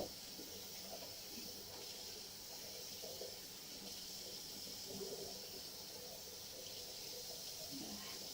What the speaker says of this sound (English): I know the water is pretty loud.